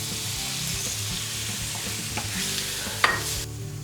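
Chickpeas tipped into a hot frying pan and stirred, with a steady sizzle, scraping utensil strokes and a sharp clink near the end, close and without talk.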